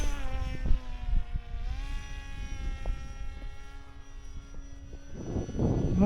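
A Sonicmodell AR Wing Pro RC plane flies overhead with a high, buzzing electric-motor whine that shifts pitch as it passes, steady and moderately loud over outdoor wind noise.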